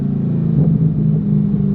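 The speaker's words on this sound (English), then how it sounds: "the pops that the LS6 produces are just phenomenal" A C5 Corvette Z06 with an LS6 V8 lets off the accelerator, its exhaust rumbling deep and loud up close with a brief burst of crackling pops in the middle of the lift-off.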